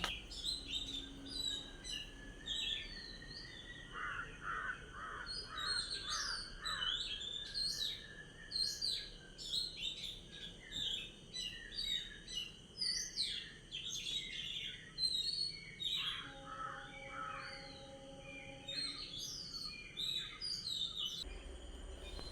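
Several birds chirp and sing at dawn in a lively overlapping chorus, with repeated whistled phrases against a quiet early-morning outdoor background.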